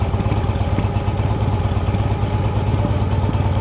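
A motorcycle engine idles close by with a rapid, steady, uneven putter and a light mechanical clatter, holding an even level throughout.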